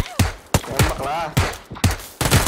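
Gunfire bursts in PUBG, several sharp separate shots spaced through a short stretch, loud and close, with a voice talking over them between the shots.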